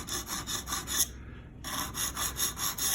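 A Hinderer Spanto knife blade is drawn along a guided sharpening system's stone in quick, rhythmic rasping strokes, close and unaccompanied, with a brief pause between strokes.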